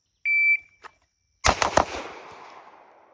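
Pistol gunshots in a 7-yard shooting drill: a shot-timer beep, then three quick, sharp shots in rapid succession with ringing decay, loud and close.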